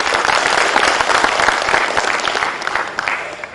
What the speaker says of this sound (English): Clap if you really do.